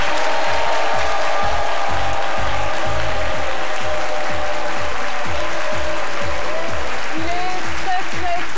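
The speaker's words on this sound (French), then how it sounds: "que je vous demande d'applaudir" Studio audience applauding on a midday TV talk show set as a guest from the Ivorian draughts federation is welcomed, a dense sustained clapping wash over a steady low rhythmic music bed.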